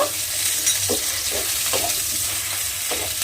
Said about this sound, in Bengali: দিয়ে একটু নাড়াচাড়া করে পেঁয়াজটা ভেজে নেব।